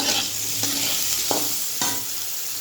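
Sliced ridge gourd frying in a pan of oil with salt and green chilli, a steady close sizzle broken by a few sharp scrapes of a spatula stirring the pieces.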